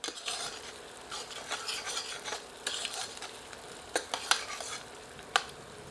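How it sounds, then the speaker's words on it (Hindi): Onions sautéing in a pan until golden for a soya chunk curry, with a steady sizzle and frequent scraping stirs of a spoon, close and alone with no voices. "अब प्याज को सुनहरा होने तक भूनते रहते हैं।"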